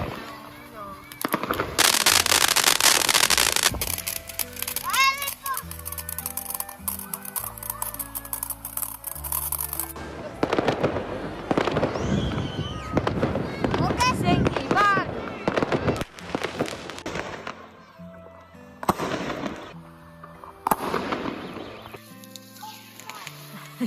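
Sparklers and fireworks set off outdoors at a Lantern Festival night, loud crackling bursts and fizzing sparkle sounds with sharp pops, under intermittent voices and background noise.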